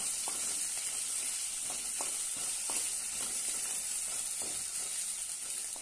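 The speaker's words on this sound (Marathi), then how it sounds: "आता यामध्ये एक टोमॅटो बारीक कट केलेला घालूया। तो पण चांगलं परतून घेऊया।" Finely chopped tomato sautés in a pan for a dry ridge gourd stir-fry, giving a steady, even sizzle with light scraping strokes from stirring.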